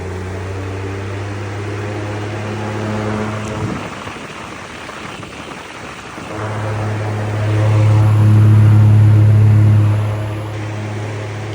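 A Samsung motor drives an oversized fan blade, a loud steady whir with a low hum that drops away briefly mid-clip, then spins back up and surges louder before settling, with no talking.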